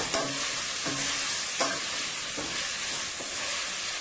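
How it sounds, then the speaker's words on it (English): Sausage fries on high heat in a pan with a steady, dense sizzle, close and loud, and a spatula stirs or scrapes it now and then. "And you want to fry your sausage on nice high heat. We're going to get this nicely fried up here."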